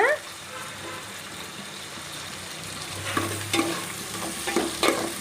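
Onion pieces frying in oil in a pan hiss with a steady close sizzle, joined in the second half by several spatula scrapes and stirs that swell the sound.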